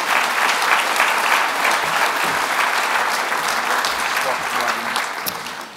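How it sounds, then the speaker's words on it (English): An audience at a youth and employer panel conference applauds the panel after a discussion on perception, a sustained wash of clapping that stays loud and even, with a voice briefly heard over it. "So would you give our panel a big round of applause"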